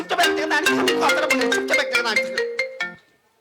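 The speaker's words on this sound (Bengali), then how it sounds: "ফোন এসছে" A mobile phone ringtone plays loudly and close up as a melodic electronic tune for about three seconds before cutting off, with no talk over it.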